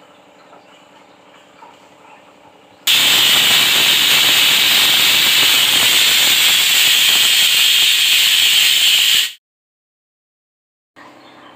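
A pressure cooker boiling dal lets out one loud, sustained steam whistle and hiss that bursts in abruptly, holds for about six seconds, then cuts off sharply into silence before faint room noise returns.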